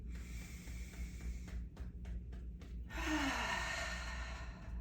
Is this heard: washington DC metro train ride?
no